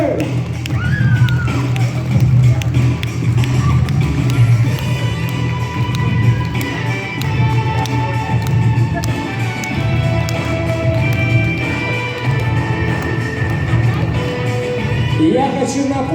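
Audience at a children's short film festival award ceremony applauding the best film winner, a loud, sustained round of clapping from a large crowd lasting throughout, with faint music tones beneath.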